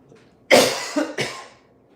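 A person coughs twice in quick succession, loud and close: one heavy cough followed a moment later by a shorter second one, with near silence before and after.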